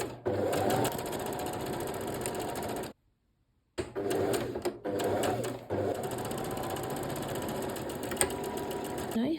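A sewing machine stitching darts on a crop top runs in a steady, close mechanical whir, stops briefly for about a second, then starts again and keeps running.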